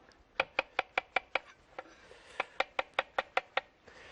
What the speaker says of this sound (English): Here, mushroom. So that's what I'm doing here. It could be sliced or diced.